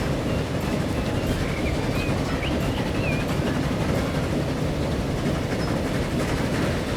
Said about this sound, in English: The sound of the train chugging away.